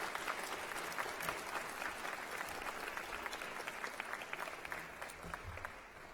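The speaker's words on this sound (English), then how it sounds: "I'd like you to give them a round of applause" Audience applause for graduates at a 2019 University of New Brunswick Encaenia ceremony, a steady wash of many hands clapping from start to finish, fading slightly at the end.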